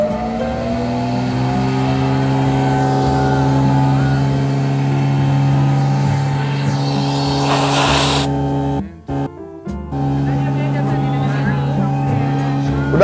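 Goldentech GT root blower running steadily with a loud, even mechanical hum and whine that continues throughout, briefly interrupted by a dropout near the end, with voices talking over it.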